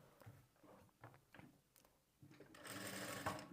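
A sewing machine stitches a blouse sleeve in short, quiet, rhythmic bursts that build into a brief sustained run of fast needle chatter.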